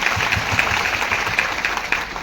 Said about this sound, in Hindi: मैं एक बार जोरदार सम्मान वाली तालियां हमारे पुरुष साथियों के लिए बजाना चाहूंगी।